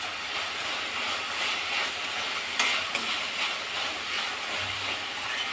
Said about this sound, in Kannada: ಟೊಮೆಟೊ ಸಾಫ್ಟಾಗಿ ಬೇಯುತ್ತೆ. ಉಪ್ಪು ಹಾಕಿದ್ಮೇಲೆ ಒಂದು 2 ನಿಮಿಷ ಹುರಿಯೋಣ.